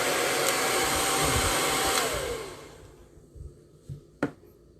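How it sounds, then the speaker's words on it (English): A handheld blow dryer roars loudly as someone dries their own hair at home, then cuts off partway through, leaving a few soft clicks and breaths. "I'm gonna do a blow dryer on my own hair"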